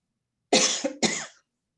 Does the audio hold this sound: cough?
yes